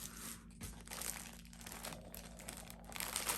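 A package holding Tunisian crochet hooks is torn open up close, giving a continuous, fairly quiet stretch of crinkling, crunching wrapping with small rustling bursts throughout and no voices.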